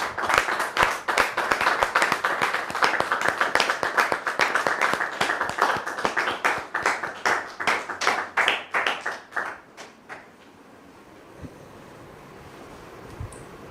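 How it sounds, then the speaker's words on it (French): Audience applause, a dense burst of clapping that fades out after about ten seconds, leaving a quiet room with a few stray claps. "vous demander de recevoir ici Dame Anne, sous vos applaudissements, s'il vous plaît."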